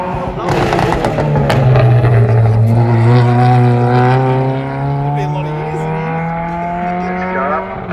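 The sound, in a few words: Ford Capri Mark 1 with 2-litre Pinto engine at sprint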